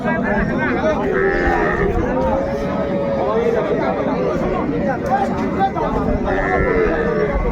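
A cow with her calf moos loudly amid a crowded, noisy outdoor cattle market in Raniganj, Dinajpur, with people talking and chattering throughout.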